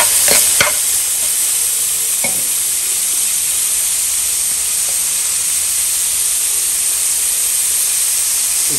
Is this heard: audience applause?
no